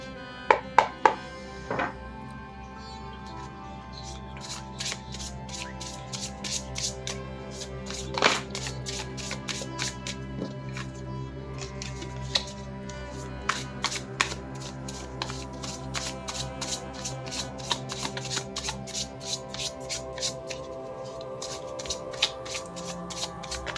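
Tarot cards are shuffled by hand for a long stretch at a tarot reading, a steady stream of rapid papery riffles and flicks with a few sharper slaps, fairly close and moderate in level, with no talking over them.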